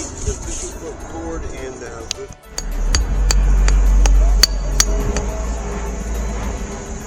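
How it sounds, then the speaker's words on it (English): Sharp metallic taps ring out one after another at an uneven pace over a steady low rumble, a hammer chipping loose concrete along a house foundation nearby. "took a hammer and went along the foundation of the house and chipped away"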